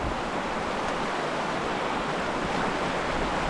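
River water rushes steadily and loud at close range while a river is crossed, its water running high after rain; a continuous broadband wash holds constant with no talking.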